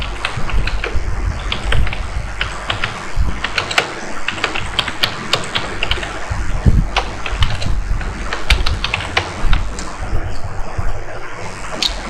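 Rapid keystrokes on a computer keyboard while an SEO description is typed, a steady close patter of clicks with brief pauses and no talk.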